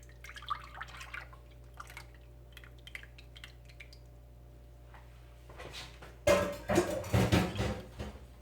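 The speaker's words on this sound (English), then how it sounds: "next we're going to pour our flour mixture into a pot" Flour mixture for a sweet Lao flour dessert poured into a pot, a quiet stretch of faint drips and small clinks followed by a louder burst of splashing, pattering liquid with knocks of a utensil near the end.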